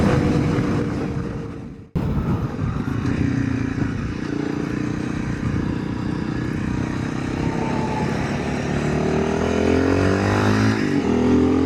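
A big bore Honda CRF300L Rally cruises at steady speed, its engine drone mixed with heavy wind rush over the microphone. After a brief dropout the sound holds constant, with a pitch that slowly rises and falls.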